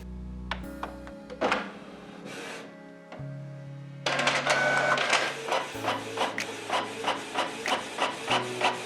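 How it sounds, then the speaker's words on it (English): A Canon PIXMA E3440 inkjet printer printing a network information page, starting with motor whirs and clunks, then a steady run of rhythmic rasping paper-feed and print-head strokes, close and alone. "By pressing the Info button, the printer will print Network Information Print."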